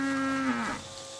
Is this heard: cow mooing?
yes